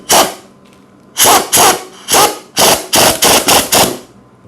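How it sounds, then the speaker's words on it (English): An air impact gun driving a bolt back into the bottom of a Kawasaki motorcycle fork, loud close bursts: a single burst, then a rapid string of short hammering bursts, separated by brief silences. "you're going to take your air gun and you're going to zap it in."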